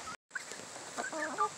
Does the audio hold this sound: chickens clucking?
yes